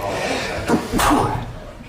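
A single sharp sneeze bursts out close by, preceded by a brief intake, with quiet room sound around it.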